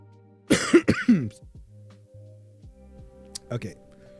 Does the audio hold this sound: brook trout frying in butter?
no